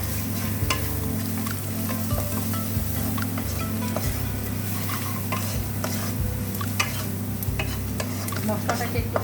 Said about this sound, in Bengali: মশলাটাকে একটুখানি হালকা ভেজে নিয়ে